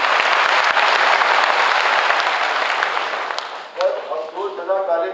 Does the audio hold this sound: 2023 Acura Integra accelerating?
no